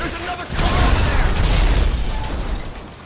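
A rocket launcher explosion in GTA 5, a loud, close boom with a long rumbling, crackling tail that fades over a couple of seconds. A voice is faintly present around it.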